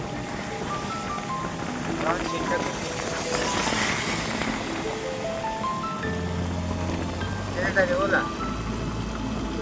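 Traffic whooshing past on a road during heavy rain, engines rising and fading, with people talking over the noise and a low rumble toward the end.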